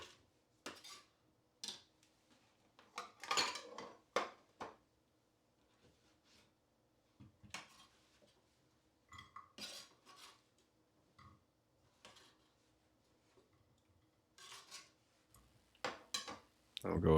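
Knife chopping vegetables on a cutting board for a harissa chickpea stew, sparse irregular taps and clicks, close but fairly quiet, separated by quiet pauses.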